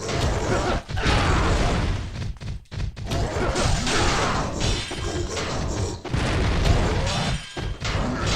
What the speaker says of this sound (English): The delayed explosion